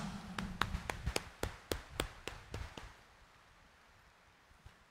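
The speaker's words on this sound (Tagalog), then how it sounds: "itaas nga ang kamay at pumalakpak ng mas malakas" A church congregation at a Friday morning Mass in Quiapo claps in a steady run of about ten sharp, evenly spaced claps, fairly close, then stops and leaves a quiet room.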